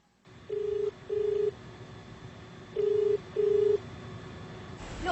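Telephone keypad dialing in an anime-style video game: four clean electronic tones, two close together, a pause, then two more, over a low background hum.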